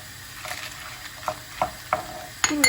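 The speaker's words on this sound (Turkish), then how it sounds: "sarımsaklarımızı da ilave ediyorum. Evet, bunlar hep birlikte kavruldular." Garlic and vegetables sauté in a hot pan, a steady soft sizzle broken by several sharp stirring scrapes and clinks, close and moderately loud with no talking.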